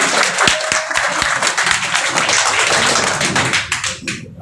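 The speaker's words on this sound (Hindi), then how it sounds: "तालियां बजाओ जरा।" A crowd at a Congress minority cell event in Bhiwandi claps steadily, with a few sharp close claps at the start, then fades toward the end, with no talk over it.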